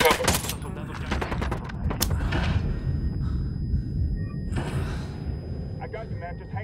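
Gunfire in the tactical shooter Ghost Recon Wildlands, a cluster of sharp shots near the start with a few more bursts later, over a steady low rumble of game ambience and some voice chatter.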